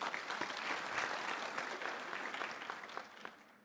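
Audience applause at a University of South Africa graduation ceremony, a sustained wash of many hands clapping at moderate distance, tapering slightly toward the close.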